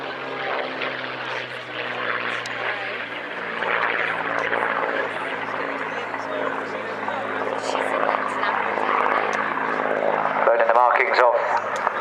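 A vintage Battle of Britain Memorial Flight propeller aircraft built at Castle Bromwich flies past at an air festival, its steady piston-engine drone rising and swelling, with a voice talking over it.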